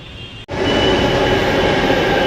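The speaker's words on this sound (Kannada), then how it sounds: "ಇದೇ ನೋಡಿ ನಾವು ಹೋಗುವಂಥ ಮೆಟ್ರೋ ಟ್ರೈನ್" A yellow line metro train at its last stop rumbles loudly and close after a brief dip, and its steady roar and hum hold without talking.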